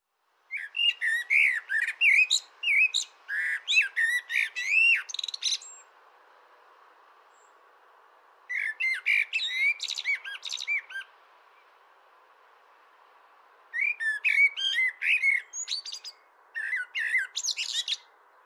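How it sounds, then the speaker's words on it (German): A male songbird sings in three separate phrases with quiet gaps between them, mixing fluting notes, twittering and single trills with wide leaps in pitch, clear and fairly close. "Die Melodie vom Männchen ist eine Mischung zwischen Flöten und Zwitschertönen und einzelnen Trillerlauten."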